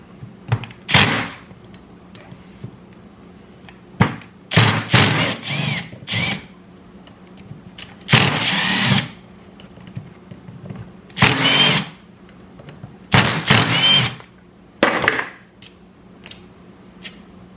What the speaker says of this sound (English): Pull the motor apart.